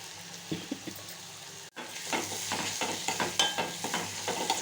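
Carrot and beetroot with turmeric and chili powder sizzle steadily in a pan, with repeated scraping and clinking strokes of stirring, close and moderately loud after a brief silent break.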